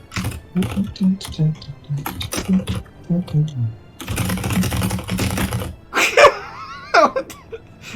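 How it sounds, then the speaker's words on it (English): Rapid bursts of keyboard typing from the Mega Man Legends video game, clicking in quick uneven clusters, followed by brief game sound effects and a speaking voice. "That is some extremely furious typing."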